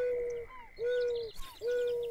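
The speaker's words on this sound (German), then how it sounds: "die Eule hier da, die ist richtig laut." A loud owl calling in the fishing game Fishing Planet at Neherrin River: three sustained hooting calls with short breaks between them, close and clear, over quiet ambient birdsong with no talk.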